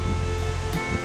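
Clear mountain valley stream at Biseondae in Seorak-san among autumn foliage, water rushing in a steady broadband wash, close and fairly loud throughout the short stretch.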